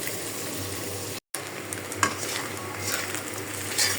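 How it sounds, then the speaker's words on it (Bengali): Fish roe fries in a pan with onion, snake gourd, salt and turmeric, giving a steady near sizzle with faint stirring that cuts out for a split second before resuming. "মাছের তেলগুলা আমি কি সুন্দর একটা ভাজি করে ফেললাম দেখুন, পেঁয়াজ আর চিচিঙ্গা দিয়ে।"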